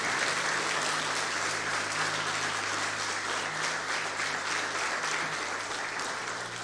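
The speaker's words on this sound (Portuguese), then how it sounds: "Aplauda ao Senhor e glorifique o seu nome." A church congregation applauds steadily, a dense, even wash of many hands clapping that holds for several seconds without a break, with a low sustained hum beneath it.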